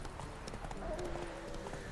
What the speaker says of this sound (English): Only thing about this game I dislike is this horse.